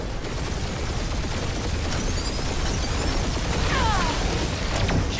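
Dense, continuous gunfire barrage from a Guardians of the Galaxy video game battle, a steady roar of rapid shots and blasts with a few streaking laser-like whines, loud and sustained without talk.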